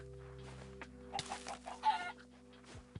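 A Minecraft chicken clucks in a few short bursts over a steady game background hum, fairly close and moderately loud, with no talk over it.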